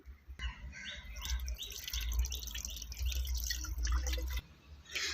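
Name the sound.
straining fermented liquid plant fertilizer, liquid dripping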